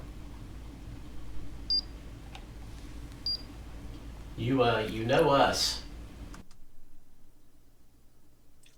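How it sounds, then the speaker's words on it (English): Two short, faint electronic beeps sound from a ghost-hunting device in a quiet room, followed by a brief stretch of speech before the background drops to near silence. "I don't know what that beep was"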